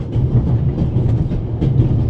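A moving train in the video game The Raven rumbles steadily with a low rolling drone and faint rhythmic clatter, loud and continuous with no talking.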